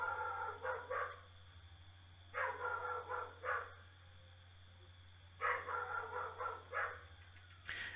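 A dog barks in three separate bursts of rapid, repeated barks, somewhat distant and moderate in volume, over a steady low hum.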